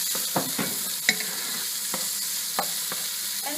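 Spanakopita filling cooks in a pan under a steady hiss of sizzling, with several distinct spoon-stirring clicks scattered across it, close and even in level.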